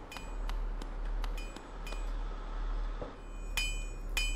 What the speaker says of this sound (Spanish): he escuchado como cincel y martillo y tal